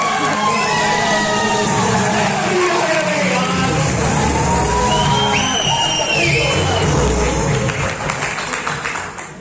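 A large, loud crowd cheers, whoops and applauds at a public celebration in Jammu and Kashmir, a dense sustained roar with shouts rising over it that fades toward the end.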